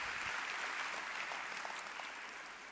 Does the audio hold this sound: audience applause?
yes